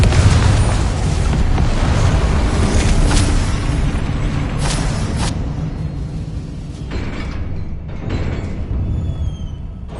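Booming blasts of a Confringo spell in a Harry Potter wizarding video game, several heavy explosive bursts with creaking, rumbling debris, loud at first and settling into a lower rumble, with further thuds near the end.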